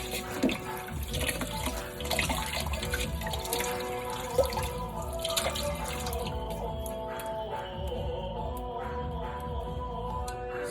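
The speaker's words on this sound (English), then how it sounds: "I like to run the water one more time," Tap water runs steadily into a kitchen sink over already-cleaned vegetables being rinsed for homemade egg rolls, a continuous close splashing flow with occasional drips and clinks, no talking.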